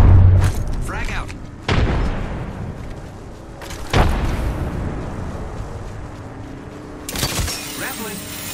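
In an online battle royale game, frag grenades go off as deep, heavy booms, one around the middle and another near the end. They rise out of a constant rumble of game noise and effects, with brief mechanical clatter between them.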